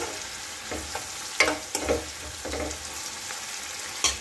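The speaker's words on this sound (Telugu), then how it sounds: "పచ్చిమిర్చి వేయించుకున్న తర్వాత" Green chillies fry in a pan with salt, a soft, low sizzle broken by several sharp stir-and-scrape bursts as they are tossed, fairly quiet and close.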